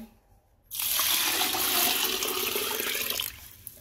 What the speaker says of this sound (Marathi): आता ह्या गव्हामध्ये पाणी टाकून घेते